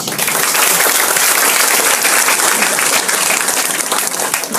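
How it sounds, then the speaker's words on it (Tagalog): A large crowd applauds Miss Emily at an event, loud, dense and sustained clapping throughout with no break. "Million palakpak para kay Miss Emily."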